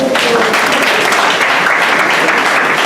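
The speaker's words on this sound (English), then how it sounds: "Please clap for him." Loud, steady applause fills the room as an audience at an anti-cultism and drug-abuse campaign event claps for a young participant, with some voices mixed into the clapping.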